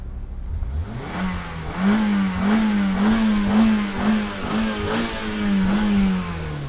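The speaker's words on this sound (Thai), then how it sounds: "เร่งเครื่องหน่อย" A 2010 Honda Civic FD engine revs up repeatedly from idle in a series of rising and falling pulses, loud and close.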